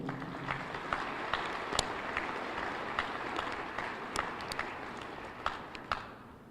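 Fairly quiet applause rises from the audience at a Jefferson County State of the County address, a soft, even patter of many hands with a few sharper claps standing out, sounding somewhat distant.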